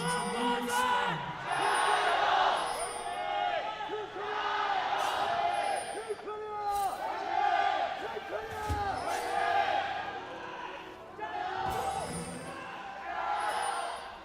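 Crowd of fans cheering and whooping at a League of Legends esports final between Korea and China at the 2018 Asian Games, loud and sustained, with rising swells of roaring voices throughout.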